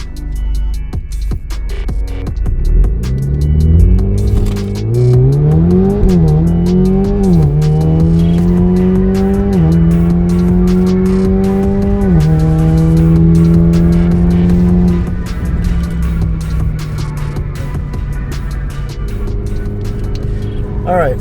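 A 2.0 turbo Alfa Romeo Giulia accelerating hard from 0 to 60 mph, the engine climbing through several rising gear pulls with shift breaks. The sound is loud, heard from inside the car, and a person talks over it.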